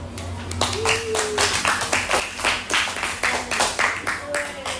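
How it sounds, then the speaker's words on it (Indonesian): Children in an Indonesian fourth-grade language classroom clap together in a quick, steady burst of applause lasting several seconds, close and lively, with a voice briefly heard over the clapping. "Kita beri aplaus yuk"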